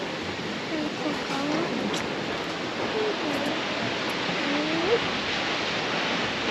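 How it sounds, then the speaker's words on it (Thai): Tat Phat waterfall in southern Laos, about 80 metres high, roaring as a steady broadband wash of falling water, with faint bird calls over the top. "น้ำตกตาดพาดเนาะความสูงมันอยู่ที่ประมาณ 80เมตรเด้อพี่น้อง"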